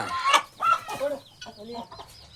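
Chickens clucking close by in a few short bursts, with faint background voices and rustling.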